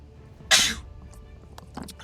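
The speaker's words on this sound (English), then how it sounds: "I forgot to turn off the mic on that sneeze" One sharp, loud sneeze, close to the microphone, during a Gordian Quest gaming session, followed by faint shuffling and breathing.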